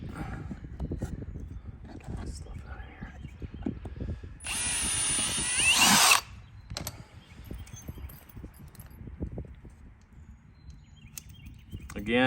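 A rivet gun fires a rivet into a GYTR harness bracket on an RMAX2 with a single loud, close burst lasting under two seconds, set among quiet handling noises and light shuffling.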